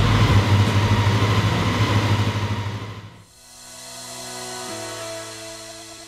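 A racing motorbike engine, just repaired after an oil leak, runs with a rough, pulsing drone that dips partway through, then settles into a smoother, steady hum.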